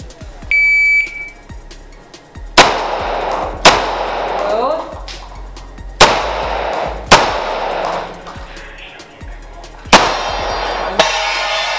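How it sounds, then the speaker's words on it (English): Gunshots ring out during a shooting practice drill at targets, five or six loud, sharp reports spaced about a second or two apart, each with a ringing tail, preceded by a brief electronic beep; no clear talking. "Van a ser dos tiros ahí, moverme hacia donde está la cámara y disparar a los tres blancos que tenemos al fondo."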